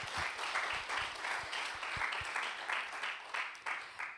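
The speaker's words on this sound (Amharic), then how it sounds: "እስቲ አጨብጭቡላቸው ለመሪዎቻችን" A church congregation claps for its leaders, steady broadband applause with scattered sharp hand claps standing out, moderately loud and sustained through the whole stretch without talk.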